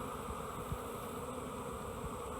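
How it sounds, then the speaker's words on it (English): Honeybees shaken off a hive frame during a beekeeping inspection make a dense, continuous buzzing drone that stays steady and fills the whole clip, with no voices over it. "Let me shake some of those bees off."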